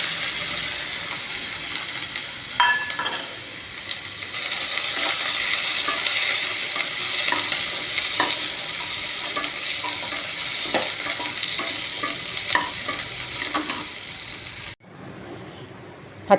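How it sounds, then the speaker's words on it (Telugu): Garlic and fresh grated coconut frying lightly in a pan, with a steady close sizzle and intermittent stirring scrapes throughout, briefly cutting off near the end. "ఎల్లిగడ్డ, పచ్చి కొబ్బరి కొంచెం లైట్గా ఫ్రై చేసుకోవాలి."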